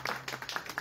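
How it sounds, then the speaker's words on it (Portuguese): Brief burst of applause from a small group at a photo club meeting in Paraty, quick overlapping claps heard at moderate distance for under a second. "Primeiro, né? um aplauso."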